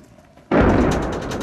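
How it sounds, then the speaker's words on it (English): A sudden loud burst of gunfire erupts amid fighting between Ukrainian troops and rebel forces, followed by a rapid stutter of further shots that fade slightly as they continue. "Gunfire rings out."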